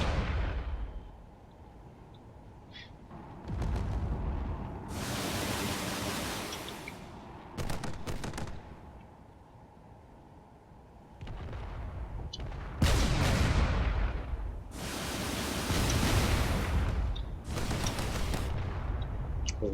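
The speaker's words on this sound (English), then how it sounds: "The missiles are starting to hit." Missile and gunfire impacts striking a carrier in the game Drone Wars come as repeated loud bursts of blasts and rattling shots, separated by short calmer gaps, over a steady low background rumble.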